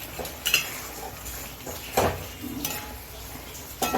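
Beans stir-fried in a pan with a little sugar, heard as a few scattered scrapes and clinks of a utensil against the pan over a faint background sizzle.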